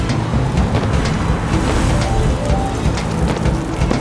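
Heavy rain falls steadily with a dense hiss, and a low rumble of thunder runs underneath during a storm in a video game. The sound is loud and continuous, with no talking.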